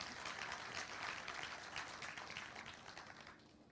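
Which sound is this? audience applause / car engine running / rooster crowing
audience applause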